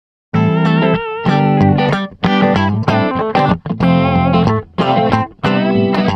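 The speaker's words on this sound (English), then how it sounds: "Let's add some chorus and reverb effects." An electric guitar plays picked neo soul chords with a shimmering chorus and reverb, loud and up close, with short pauses between phrases.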